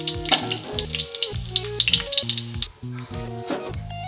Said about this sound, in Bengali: এবার গোটা জিরে, একটা শুকনো লঙ্কা আর তেজপাতা আমি ফোড়ন দিয়ে দিলাম